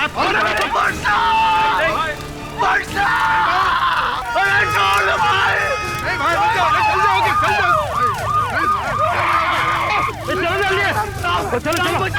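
A wailing ambulance siren sounds close and loud throughout, rising and falling, while several voices talk excitedly over it.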